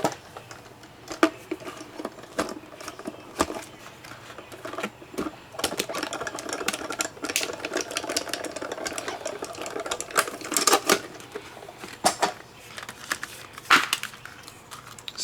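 A die-cutting machine runs paper puppy shapes through with irregular clicks, cracks and crunching snaps scattered over a faint background hum, close up with no talking.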